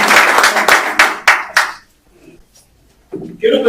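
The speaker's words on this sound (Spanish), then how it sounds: "Así que le damos un cariñoso aplauso." A church congregation claps together with loud hand claps that taper into a few final isolated claps, followed by a quiet pause and then a voice starting to speak.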